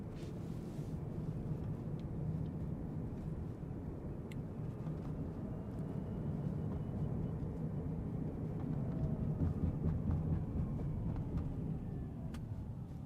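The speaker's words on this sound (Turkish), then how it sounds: "Bir de spor modunda bir kullanalım." A Tesla Cybertruck drives and accelerates in sport mode, giving a steady, fairly loud low road-and-drive rumble that holds for the whole stretch with no talk over it.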